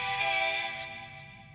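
A vocal sample for a jungle/DnB track, drenched in reverb and delay with the lows EQ'd out, holds a sustained pitched tone that fades into a washy echoing tail, heard alone.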